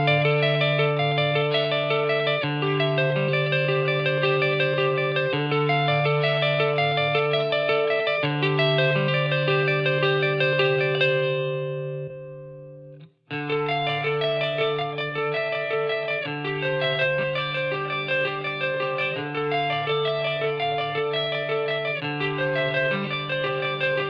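Clean electric guitar through a Line 6 Helix with the double-tracking effect off plays sustained chords and notes, briefly fading to near silence midway before resuming, steady and close.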